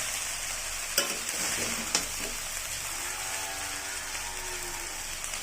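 Mixed fried rice stirred gently in a pan, with a soft continuous sizzle, a couple of sharp spatula knocks early on and quieter scraping afterward.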